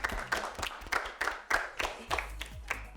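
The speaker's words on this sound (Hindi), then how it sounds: "जोरदार तालियां" A small group claps for a team in a word game, producing a few uneven bursts of hand claps at close range that come and go over a few seconds.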